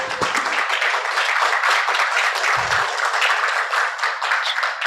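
An audience at a Korean-language conference session on youth politics and basic income claps steadily, a dense sustained applause from many hands, close and loud from start to finish.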